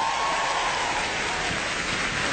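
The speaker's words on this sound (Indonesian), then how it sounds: "boleh tepuk tangan?" Steady, dense applause from a stand-up comedy crowd fills a live venue, loud and sustained throughout with no voices on top.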